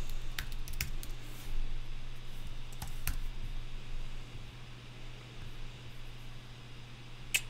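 Code typed on a computer keyboard, quiet scattered key clicks and a few sharper taps over a faint steady hum, no voices.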